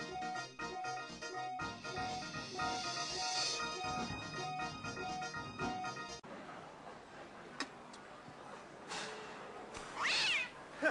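A cat meows a few times near the end, fairly close, following a stretch of rhythmic ticking and music-like background.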